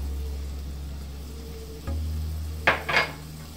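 Boiled potato and chopped onion fry gently in a little oil over low heat, a soft, quiet sizzle under a low hum, with two brief scraping stirs near the end.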